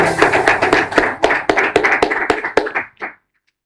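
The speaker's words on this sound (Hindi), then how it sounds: "तालियां" Studio audience applause on a quiz game show, a burst of sharp, fairly close hand claps that thins out and stops after about three seconds.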